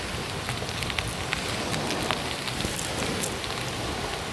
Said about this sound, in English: Not until today's heavy monsoon rains.